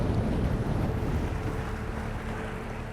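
Strong, gusty wind on a lake during a college bass fishing tournament, a loud continuous rushing roar buffeting the microphone, with water and boat noise beneath and no talk.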